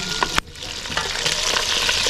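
Sliced onions being mixed with pounded garlic, onion and spring onion seasoning for Senegalese yassa, a steady close wet stirring and sizzling texture with a sharp knock near the start, no talk.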